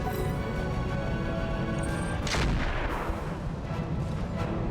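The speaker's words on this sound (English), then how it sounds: "Taking an absolute swarm of missiles." Explosive missile barrage pounding mechs in the BattleTech RogueTech mod, a dense, continuous roar of blasts with a heavier impact burst midway, loud and close without any voices.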